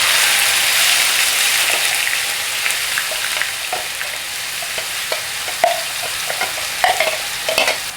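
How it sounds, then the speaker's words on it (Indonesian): Spice paste for sambal sizzles loudly as it sautés in fresh oil, a steady close frying hiss with occasional stirring clicks and pops, no talking. "Kita tumis bumbunya."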